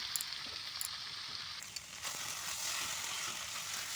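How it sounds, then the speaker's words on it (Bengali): Jackfruit frying in spice paste, a steady close sizzle with soft crackles throughout and a brief stir partway. "এখন এই যে কাঁঠালটা ঢেলে দিলাম এখন ভালো করে কাঁঠালটাও কষিয়ে নেব কিছুক্ষণের জন্য"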